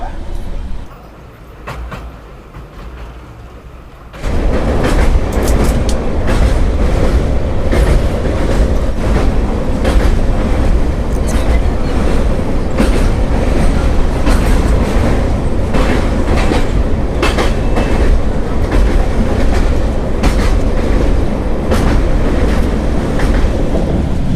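The 22202 Puri-Sealdah Duronto Express runs loud and close after a quieter opening, with a constant heavy rumble, clattering wheels over rail joints and rattling carriage noise throughout.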